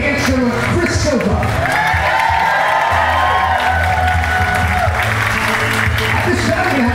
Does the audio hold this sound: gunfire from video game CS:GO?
no